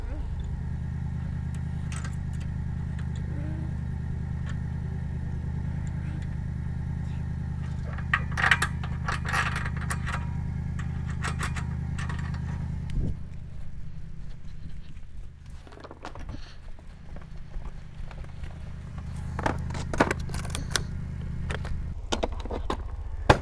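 Trailer safety chains being attached at an Andersen No Sway Hitch: metallic clinks and rattles come in short bursts over a steady engine idle, with a person talking throughout.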